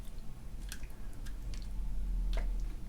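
Chicken pieces with the skin removed being turned and coated in huli huli marinade, giving soft wet squishing and sticky slaps at close range, with a low steady rumble underneath.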